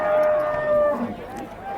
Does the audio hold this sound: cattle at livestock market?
yes